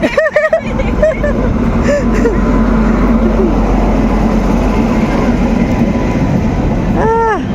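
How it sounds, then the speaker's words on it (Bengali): The Howrah–Balurghat Express pulls into a station, and a loud, steady rumble of rolling carriages fills the platform. People talk now and then over the noise. "এই যে আমাদের ট্রেন ঢুকে গেছে বালুরঘাট এক্সপ্রেস হাওড়া বালুরঘাট এক্সপ্রেস"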